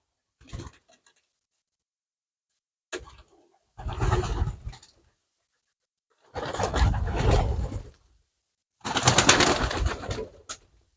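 Pigeons in a village dovecote give bursts of wing flapping and fluttering, four separate flurries of increasing length and loudness separated by silence, close to the listener.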